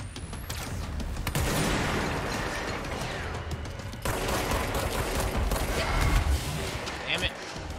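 Gunfire in the video game Control: dense, continuous bursts of shots and impacts fill the whole stretch, loud and close, with a brief break around the midpoint before the firing resumes.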